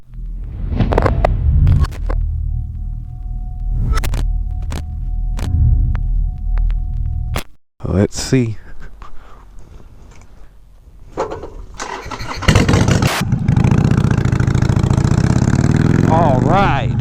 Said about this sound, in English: first impressions, this exhaust is obnoxiously loud